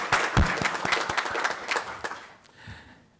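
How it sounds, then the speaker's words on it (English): Dense applause from a graduation ceremony audience honoring faculty at an international students' commencement, loud and full at first, then thinning out and fading toward the end. "may I request a moment of applause to honor and appreciate that immense contributions"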